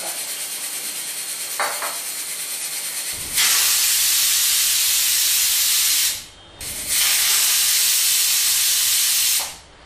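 A pressure cooker on a stove releases steam through its whistle in loud, sustained hissing blasts. Two long bursts are separated by a brief drop, after a quieter stretch with a faint hiss.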